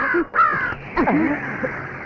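Harsh crow caws ring out in a few close, loud bursts, one after another, with no talking, in a Telugu comedy film scene.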